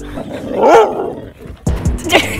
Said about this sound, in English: My dog's trying to eat me.